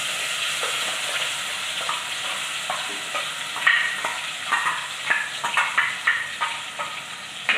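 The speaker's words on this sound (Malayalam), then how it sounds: "അപ്പോൾ നമ്മൾ ഈ അരച്ച് വെച്ച അരിപ്പ് നമുക്ക് അങ്ങനെ ചേർത്ത് കൊടുക്കാം" Ground masala paste goes into fried fenugreek in a pan for a fish curry: a steady sizzle with a burst as it lands, then soft rhythmic scraping and stirring strokes, near and moderately loud.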